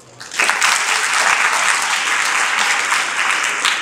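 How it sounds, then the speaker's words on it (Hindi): Audience bursts into applause after a comic poetry recitation, a dense, even wash of clapping that starts abruptly and holds steady at close range with no talk over it. "ज़्यादा लगे तो तालियां भी बजा दीजिए"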